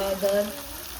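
Potatoes fry in oil over medium-low heat, a steady soft sizzle with light stirring scrapes, close and continuous.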